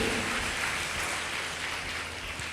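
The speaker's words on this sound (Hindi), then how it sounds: "ताली बजा कर परमेश्वर को धन्यवाद दे।" A church congregation at a Sunday service claps together, a dense, even patter of hands filling the room at moderate volume with no voices over it.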